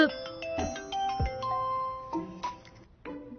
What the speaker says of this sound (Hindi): ताओ का फोन है।